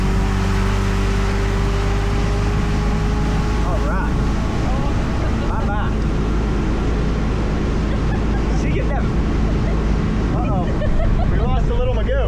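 An old boat running on a Johnson outboard motor, a loud continuous engine drone with heavy wind buffeting throughout, while voices talk faintly beneath the noise.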